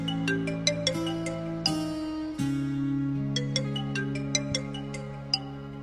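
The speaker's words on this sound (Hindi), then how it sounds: "आनंदी के स्कूल से प्रिंसिपल का फोन।" A phone ringtone plays a sequence of light plucked notes over sustained low background music, without talking.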